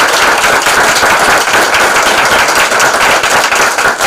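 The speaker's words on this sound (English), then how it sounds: "I also would like everyone to give a round of applause to our candidates for coming over." Audience applause at a congressional candidate forum fills a room, a loud, dense wash of many hands clapping steadily and close, with no talking over it.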